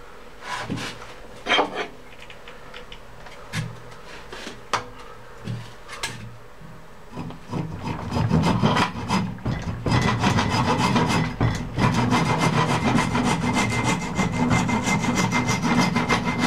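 An old axe head has its excess sawn off: sparse scraping strokes at first, then a sustained run of rapid back-and-forth hand-sawing, close and clear with no talk.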